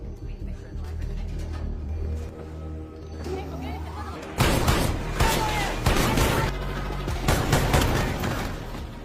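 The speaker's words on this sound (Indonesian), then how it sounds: "Kemudian dengan cepat Avery menyerang Brenzov dan pasukannya hingga terjadi aksi tembak-tembakan." Rapid gunfight gunfire from an action film, with dense bursts of shots, crashes and booms filling the soundtrack from about four seconds onward over a rumbling score.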